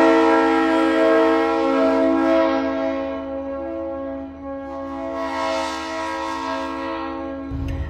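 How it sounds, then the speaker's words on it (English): A loud train horn blares in a long sustained chord near a campsite, holding steady for most of the stretch before fading slightly, with a brief low rumble at the end and no talking. "some train conductors honk their horn"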